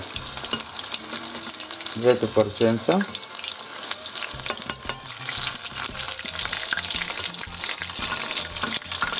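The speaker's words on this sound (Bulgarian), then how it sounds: "Така от време на време може да вдигате, равномерно да се пържи, да се панира." Breaded pieces, coated with red pepper and turmeric, fry in a pan with a loud, steady sizzle and crackle throughout, while someone speaks briefly over it.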